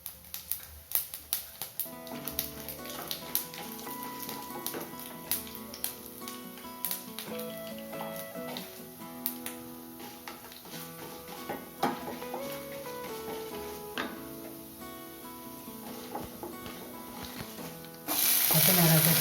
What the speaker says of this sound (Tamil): எண்ணெய் காயட்டும். கடுகு போட்டுக்கலாம். அடுத்தது உளுத்தம்பருப்பு,